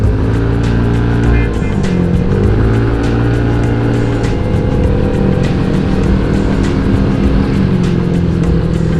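A loud motorcycle engine with an upgraded special pulley roars and climbs in pitch as it accelerates, with shifting harmonic drone and wind rumble throughout.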